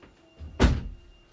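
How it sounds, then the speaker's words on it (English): A door is pushed fully shut with a single firm thud, close by, with only faint room noise around it. "close my door all the way"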